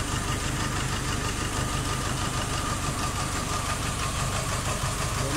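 Nissan Navara YD25 diesel engine idling steadily with a dense, continuous clatter and knock, close and loud throughout during a cylinder power balance test.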